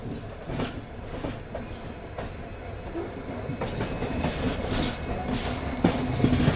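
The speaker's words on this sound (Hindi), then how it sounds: "फिलहाल यहाँ देखिए डीजल लोकोमोटिव।" A diesel locomotive from the Abu Road shed pulls the Marudhar Express out on a curve, its wheels clattering in a steady rumbling rhythm that grows slightly louder, close by and with no talk.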